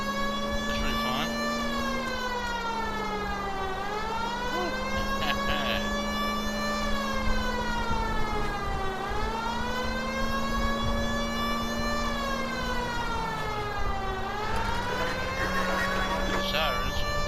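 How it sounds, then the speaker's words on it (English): Several wailing police sirens in the video game L.A. Noire rise and fall in slow sweeping cycles, loud and continuous over a low engine drone, with faint voices underneath. "Sirens."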